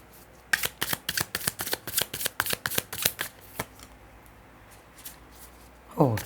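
Tarot cards being shuffled by hand for an advice draw, a quick run of crisp riffling flutters close up, trailing off into a few last flicks and a brief swipe at the end.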